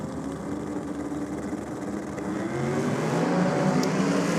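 Turbo small block and gassed big block drag race cars roar at a track, a distant, droning engine rumble that swells louder partway through as they launch and pull away.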